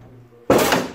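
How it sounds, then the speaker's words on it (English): A car door on an EF Civic shuts with one loud, close thud, followed by a short rattling clatter as the inner rods knock against the aluminum door panel. "Whenever you shut the door, they're actually like clattering against the aluminum door panel."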